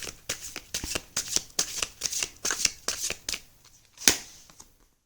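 Tarot cards shuffled by hand, a rapid series of crisp riffling bursts in a steady rhythm, close and fairly loud, ending in one sharp final snap before falling quiet.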